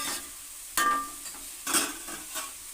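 A spatula turns a stir-fry of fresh tanni beans and keerai greens in a hot pan, giving a few scraping strokes over a light sizzle, close and moderately loud.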